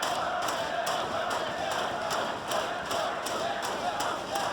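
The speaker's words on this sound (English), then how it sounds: "Listen to the crowd, though" Wrestling crowd at a tag team match roaring and cheering, a dense, steady wash of voices heard from within the arena, with rhythmic thumps cutting through at intervals.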